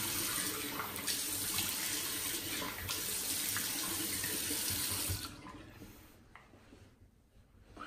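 Cold water running from a sink tap while a man rinses his face during shaving, a steady close splashing hiss for about five seconds before the flow stops and a few faint drips and movements follow.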